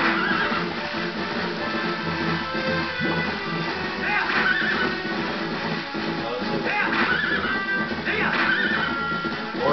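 A horse neighs repeatedly in Zelda: Twilight Princess, with whinnies rising over a continuous bed of game music and clip-clop hoofbeats, fairly loud throughout.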